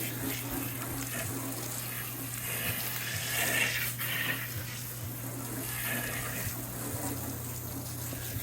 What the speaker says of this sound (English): quick and easy way to wash your windows using that brass little hose thing